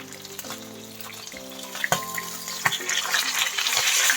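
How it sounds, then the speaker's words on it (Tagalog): Fish sizzling in hot oil in a pan, a steady crackling hiss with a few sharper pops and spatters, growing denser toward the end. "ipa-fried lang natin yung ating isda"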